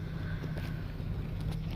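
In the Aerofly FS 2022 flight simulator, the twin engines of a Baron B58 plane rumble as the throttle is brought up, a steady low drone with some breathy noise and no talking.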